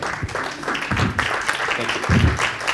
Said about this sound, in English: if you could please stand up and give him a big round of applause